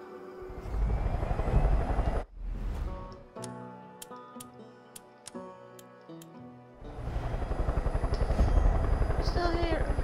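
In Far Cry 5, a plane's engine drones loudly with a rhythmic chopping throb, drops out for a few seconds of ticking clock-like game sounds, then roars back in close and heavy.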